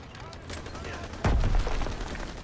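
Gunfire from MG42 machine gun nests in a Call of Duty WW2 trench battle: a low burst of automatic fire rumbles at mid-distance, with a heavier blast landing partway through, all under a steady wash of battle noise.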